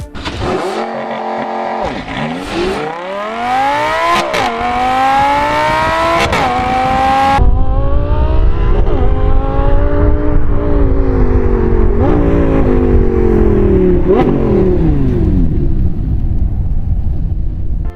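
A Lamborghini with a 5.2-liter, 570-horsepower V10 in a Need for Speed racing game, loud and close: the engine screams up through the revs, drops sharply at each gear change, then climbs again several times before easing off.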